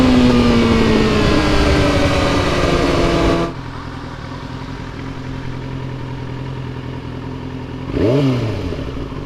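A Yamaha R6 motorcycle engine roars loud and close as it rides, then drops to a lower, steadier drone partway through before a short rising rev near the end.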